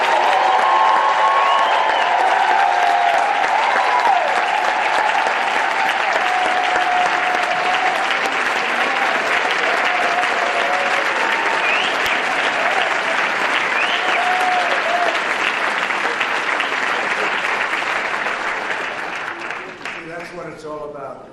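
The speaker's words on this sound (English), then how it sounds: "Would you please stand so that we can congratulate you and applaud?" A large audience at a Historically Black Colleges and Universities conference with the US president applauds HBCU scholars in long, loud, sustained clapping. The applause fills about twenty seconds, then fades near the end.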